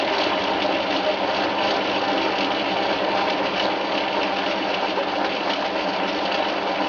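A Chinese bench lathe converted to a treadmill motor turns a 20 mm steel shaft with a positive-rake carbide tip at medium feed, giving a steady continuous whirring, grinding cut without breaks or talk.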